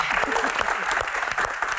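Audience applause during a Q&A with an Olympic badminton champion, brief continuous clapping from a crowd with voices mixed in beneath it.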